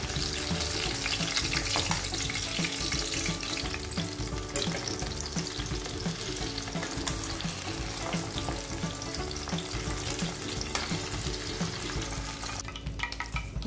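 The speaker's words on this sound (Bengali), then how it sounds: "এইভাবে আমি পর্যায়ক্রমে সবগুলো মাছ ভেজে নেব।" Bacha fish fry in hot oil in a pan with a loud, continuous, close crackling sizzle that holds steady throughout, with no talking.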